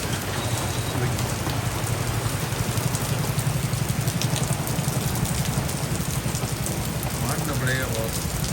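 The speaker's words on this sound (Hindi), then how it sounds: "इतनी भयंकर बारिश रात 2 बजे" Heavy monsoon rain pouring at night on a Delhi street, a dense continuous hiss of drops hitting surfaces close by, with faint vehicle sounds in the background.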